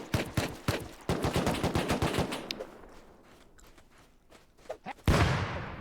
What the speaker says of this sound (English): Double barrel shotgun?